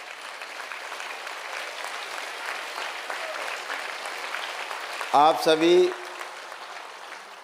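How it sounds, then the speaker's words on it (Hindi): Sustained audience applause fills a spiritual conference hall, steady clapping throughout, with a brief voice speaking near the end. "ये तालियां ही संकल्प हैं।"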